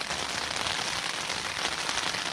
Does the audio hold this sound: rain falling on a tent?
yes